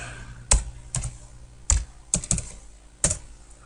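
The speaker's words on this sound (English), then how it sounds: "Now I got to type that in." Numbers typed on a computer keyboard: sparse, crisp key clicks arrive singly and in quick pairs, close up against a quiet background.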